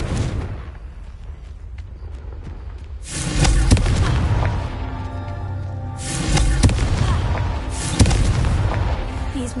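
Confringo fire spell in the Hogwarts Legacy video game, heard as a pair of booming blasts a few seconds apart over a steady game soundscape, each followed by a rumbling, crackling tail.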